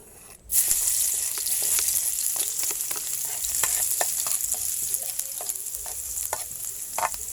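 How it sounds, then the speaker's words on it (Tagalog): Garlic sautéing in a little oil in a pan, for cheesy egg lumpia, sizzles loudly and steadily up close, with repeated scraping stirs of a utensil throughout. "Nagigisa tayo mga kasarap ng bawang."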